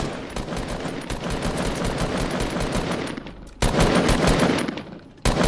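Rapid automatic gunfire in the battle royale game Fortnite, loud and close, long rattling bursts with a brief pause and then another intense burst, followed by a final short volley, no voices.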